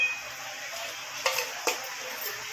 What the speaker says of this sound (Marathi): नुसतं फ्राय करत राहायचं, ह्याला झाकण ठेवायचं नाही.